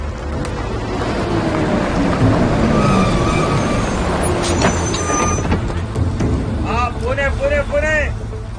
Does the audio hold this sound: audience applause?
no